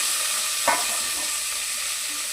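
Garlic and curry leaves with mustard seeds fry in hot oil in a pan, giving a steady close sizzle with a brief stirring scrape partway through.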